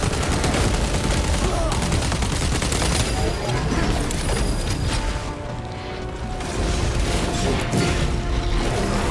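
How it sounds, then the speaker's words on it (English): In the video game Warhammer 40K Space Marine 2, a frag grenade blast is followed by dense, relentless gunfire and heavy booms in the Battle of Avarax against Tyranids, loud and continuous with no pauses. "Deploying frag grenade!"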